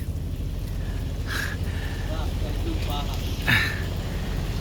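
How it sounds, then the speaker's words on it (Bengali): Steady rain and gusting wind batter a small boat in a storm beside keora trees, with constant broadband wash, low rumble and wind buffeting; people speak briefly over it. "বৃষ্টি হচ্ছে, মোবাইল ভিজে যাচ্ছে"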